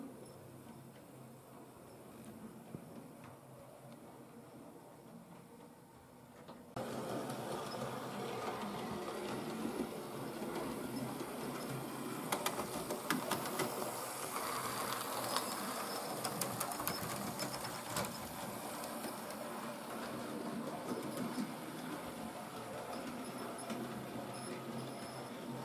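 A roughly 20-year-old Hornby SR West Country class model locomotive runs on DC, giving a faint continuous whirring motor hum with light rail rattle that grows louder partway through.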